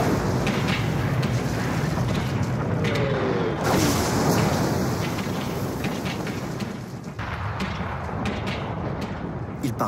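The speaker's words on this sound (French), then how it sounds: "En quelques heures, 1 million d'obus s'abattent sur les positions françaises" Artillery shells explode in a Battle of Verdun bombardment, a dense continuous roar of rumbling blasts and booms. A voice speaks faintly underneath, and the intensity drops partway through.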